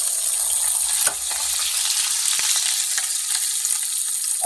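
Vegetables, including green beans, sizzle steadily in a paella pan over medium heat, a dense continuous frying hiss with occasional soft stirring clicks, close and fairly loud with no talking.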